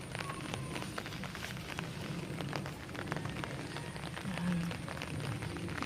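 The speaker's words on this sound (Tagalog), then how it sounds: "Dahil umuulan," Steady rain patters on a backyard vegetable patch of chili and water spinach on a wet afternoon, a dense, even hiss with scattered close drops and no voices.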